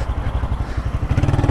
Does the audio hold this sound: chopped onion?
no